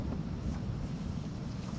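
Wind blowing steadily over a sandy field planted with tomatoes behind shade netting, a constant low rushing roar with microphone buffeting and no other sounds.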